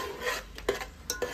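Spice paste sautéing in oil in a pan, heard as a brief moment of quiet spoon scrapes and light metallic taps against the pan over a faint sizzle.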